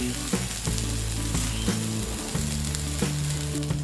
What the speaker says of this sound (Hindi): हमने इसे लो फ्लेम में 2 मिनट तक फ्राई कर लिया है।